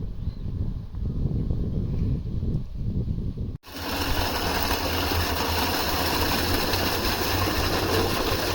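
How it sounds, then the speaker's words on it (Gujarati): A farm water pump motor at a field hut fills a drum with a steady, loud droning hum. The sound shifts abruptly partway through into a denser, brighter roar that continues unbroken. "આપણે ટીપડું ભરવા હાટું મોટર ચાલુ કરવાની છે હવે"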